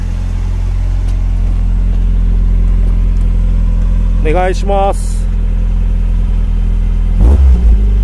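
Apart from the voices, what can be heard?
Toyota Corolla 70 series engine exhaust revving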